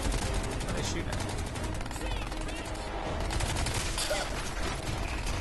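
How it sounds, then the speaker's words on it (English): Rapid automatic gunfire from the Crysis 3 video game set in New York, dense sustained bursts and fusillades layered with game effects and soundtrack, filling the whole stretch with a voice speaking over it. "What are they shooting at?"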